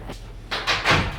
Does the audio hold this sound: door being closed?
yes